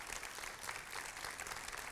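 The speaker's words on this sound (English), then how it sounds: "First of all, loud clap for you." An audience at a tourism forum applauds after a talk on LGBT luxury travel, a continuous patter of many hands clapping at a modest, fairly distant level for about two seconds.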